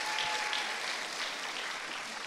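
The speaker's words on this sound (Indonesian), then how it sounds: "Tepuk tangan dong." Applause from an audience welcoming the vice governor of East Java to a sharing session, steady, fairly faint clapping from many hands heard at a distance, unbroken by talk.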